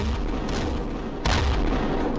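Gunfire in the Roblox video game, a steady wash of rapid shots with a louder burst near the end, dense and continuous with no talking.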